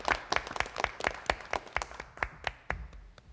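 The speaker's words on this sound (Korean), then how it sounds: "자 박수로 우리가 환영해 주십시다." An audience claps to welcome traditional musicians onto the stage at a folk-song program, with distinct, fairly close individual claps in an uneven rhythm that thin out toward the end.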